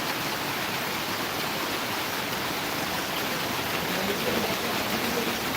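Steady, dense hiss of heavy rain falling continuously on Garaddi village in Mansa district, with no voices and no pauses.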